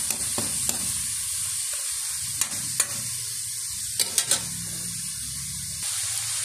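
Aromatics brown in a pan before squash goes in, a constant close sizzle with a spoon stirring and scraping, sharp metallic taps against the pan several times.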